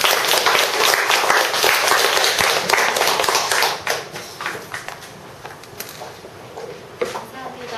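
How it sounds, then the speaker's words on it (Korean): An audience claps together at a gathering, loud and dense at first, then thinning into scattered, lighter claps that linger to the end. "자, 박수."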